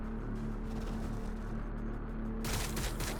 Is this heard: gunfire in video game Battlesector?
yes